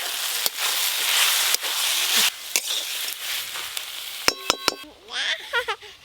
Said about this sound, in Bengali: সবশেষে একটু সর্ষে বাটা দিয়ে ভালো করে মিশিয়ে নেব